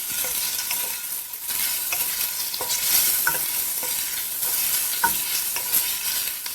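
Chopped onion for an Italian lasagna sauce fries in a pan over moderate heat while being stirred, giving a steady close sizzle broken by scraping strokes and light utensil taps, with no voices.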